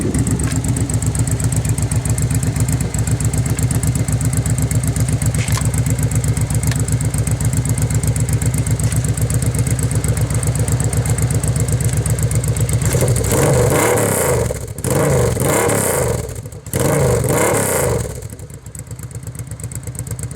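Honda Hawk GT motorcycle idling with a loud, steady exhaust burble, then revved several times up to about 4,000 RPM in sharp, close bursts before settling back.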